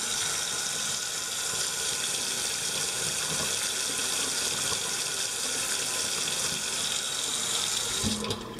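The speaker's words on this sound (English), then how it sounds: "it's going to get a little loud because I'm going to turn on the hot water" Hot water gushes steadily from a tap into a sink, a loud continuous splashing stream that keeps going without pause.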